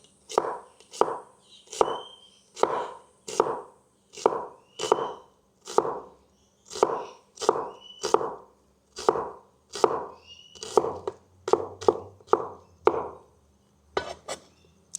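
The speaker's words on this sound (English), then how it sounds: "I'll cut them as fine as I can. Very thin slice." A sharp cleaver finely slices onions for Larb Mu, striking the board in a steady, even rhythm of about two dozen crisp chops, speeding into a quicker cluster near the end, close up with no speech.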